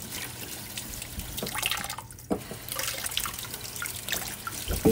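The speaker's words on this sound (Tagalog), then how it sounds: "Hugasan muna natin yung ginger." Tap water runs and splashes in a kitchen sink while ginger is washed under it, a steady close trickle with small drips and handling sounds.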